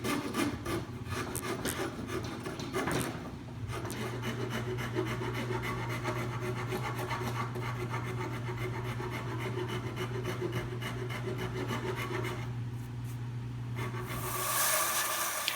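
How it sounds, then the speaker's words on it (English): A Japanese Iwasaka half-round file carves the heel of a wooden guitar neck: steady, close, rhythmic rasping strokes that go on continuously under a faint background hum, with no talking. "My half-round Japanese Iwasaka file is really great for helping to carve the more complex shapes, such as the heel of the neck"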